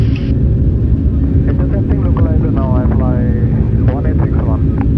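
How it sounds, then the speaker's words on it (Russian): Loud, continuous low roar of an Antonov An-124 Ruslan's engines during the takeoff run, heard from inside the cockpit, with crew voices calling out over the steady rumble. "Рубеж, подъем, взлет продолжаем. Скорость отрыва."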